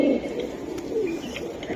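Silver Giribaz pigeons of a Palla line coo in a short, low, warbling call. The pigeons are close and moderately loud, with faint background noise.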